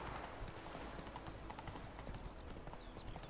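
Hooves of a horse in The Witcher 3 clip-clop in a quick, steady rhythm over a dense game soundscape, fairly quiet with no talk.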